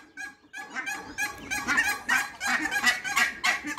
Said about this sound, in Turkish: bunlar Endonezya orman tavukları, Gallus varius.